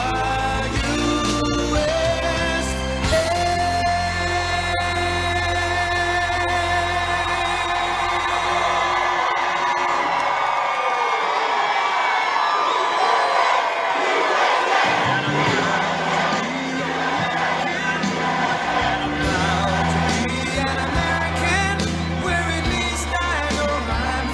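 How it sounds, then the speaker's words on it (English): A large outdoor political rally crowd in Rome, Georgia cheers and roars continuously, a loud, sustained wash of voices mixed with music that thins briefly midway before surging back. "What a crowd this is"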